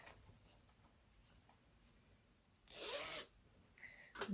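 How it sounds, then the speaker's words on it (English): A bag zipped shut, one quick rasping zip after a quiet stretch, close and fairly loud, followed by a brief rustle of handling. "Zip that one closed."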